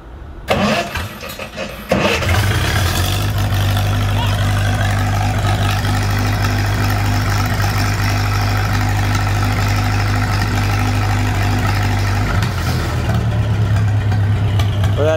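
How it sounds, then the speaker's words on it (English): A Lincoln SA-200 welder's engine cranks and catches after a brief start attempt, then settles into a loud, steady, low idle rumble close by, which dips briefly near the end before carrying on. "Can I show them how to start it? Yeah, start it."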